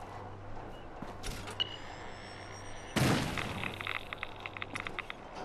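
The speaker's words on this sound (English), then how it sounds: "when I step on this pressure plate now, it's gonna shoot a burst of, I don't know, it's like a dirty bomb" A pressure plate trap in Fallout 4 sets off a dirty bomb, heard as a sudden loud burst at mid-clip followed by a crackling, sputtering hiss with scattered pops, preceded by quieter game ambience and faint clicks.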